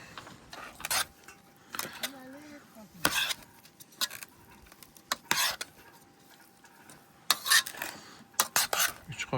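A metal spoon stirs fish pieces with vinegar in a wide bowl, giving scattered clinks and scrapes in short irregular bursts, close and fairly quiet.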